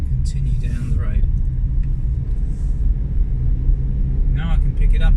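A car driving slowly and gently braking on a road in Maidstone, a steady low engine and road rumble throughout, with someone talking over it.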